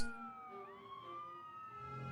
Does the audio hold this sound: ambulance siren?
yes